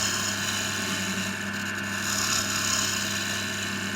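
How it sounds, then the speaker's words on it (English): A wood lathe drones steadily while a spindle gouge cuts a wooden chisel handle, roughing off waste in a constant, loud whir with no breaks. "here I'm using my spindle gouge, taking off the bulk of the waste"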